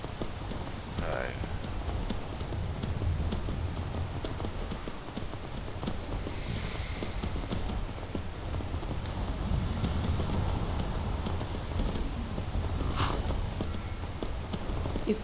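Horse hooves clip-clopping on a ride in the Skyrim video game, a steady, moderately loud walking rhythm running throughout under game ambience and occasional other sounds.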